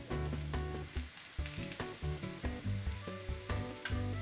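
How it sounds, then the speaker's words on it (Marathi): Besan poli frying with oil poured around its edges on a pan, a steady bright sizzle running throughout beneath tonal background music. "आता आपण तेल टाकून घेऊया कडेने"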